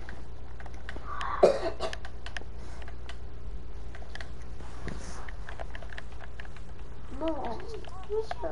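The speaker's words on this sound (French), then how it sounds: "Désolé, j'ai rien entendu, j'ai toussé." A single brief cough cuts through a quiet room with a low steady hum, followed a few seconds later by soft speech.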